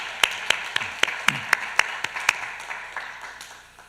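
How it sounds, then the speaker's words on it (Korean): A church congregation clapping together in worship, about ten evenly spaced, sharp unison claps in a steady rhythm that gradually fade and thin out toward the end. "하나님께 영광의 박수 올려드리도록 하겠습니다"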